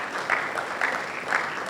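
Applause from an audience honouring students, a steady patter of many hands clapping with a few sharper bursts, filling the short moment without voices.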